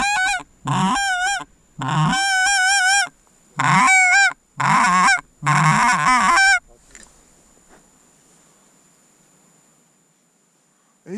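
Geese on a thawing shoreline honk loudly and close in six bursts over about six seconds, then quiet faint rustling follows.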